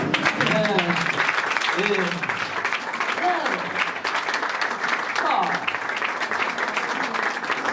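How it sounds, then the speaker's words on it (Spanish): A church congregation applauds during a Sunday sermon, with sustained, busy clapping from the whole room and voices rising over it, including sung or drawn-out calls. "Aplauda al Señor."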